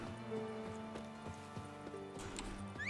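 Roach the horse gallops in The Witcher 3 video game, steady clip-clop hoofbeats repeating in an even rhythm over a droning, tonal game soundtrack, close and clear with no talk.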